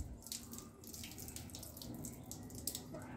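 Leftover water draining out of a cut plastic filter tube, a soft continuous splashing trickle that is faint and steady with no speech.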